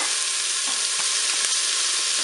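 Onions frying in hot oil inside a Cookeo multicooker for spaghetti forestière, a steady close hiss of sizzling with a few soft stirring knocks, no voices.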